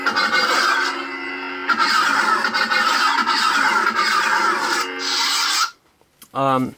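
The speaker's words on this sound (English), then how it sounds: "There's a blade drag and a blade lockup. The blaster block." Loud buzzing, crackling lightsaber effects from a Neopixel Proffieboard lightsaber staff, including blade drag, blade lockup and blaster block, with a harsh rasping texture, then a brief pause and a short pitched warble at the end.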